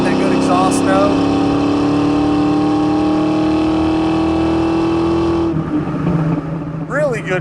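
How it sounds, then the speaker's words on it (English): A 1991 Ford Mustang LX coupe with the 5.0 V8 and automatic transmission pulls hard, its exhaust droning loud and steady as the pitch climbs. It eases off near the end, and a voice speaks briefly. "get that good exhaust note."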